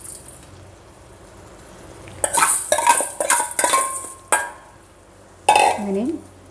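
A spoon stirs roasted vermicelli in boiling water in a pot over a medium flame, making bursts of scraping and clinking against the metal with short pauses between strokes.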